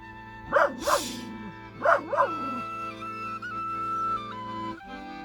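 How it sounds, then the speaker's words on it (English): A dog barks four times in two quick pairs on a beach, fairly close, with a steady musical drone beneath and no talk. "Oh, the dog's just walked up the beach."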